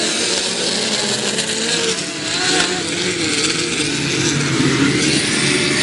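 Midget race cars roar around a dirt oval during a Memorial Day special main event, a loud continuous blend of engines rising and falling as the pack passes close by.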